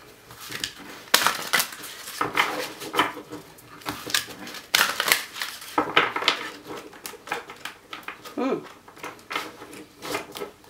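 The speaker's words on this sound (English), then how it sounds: "These are a little bit difficult to shuffle because they're so big." Uneven, clunky rustling and slapping of large, stiff tarot cards being shuffled close by, in irregular bursts, with faint speech in the background.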